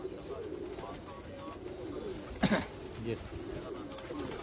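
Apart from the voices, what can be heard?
pigeons cooing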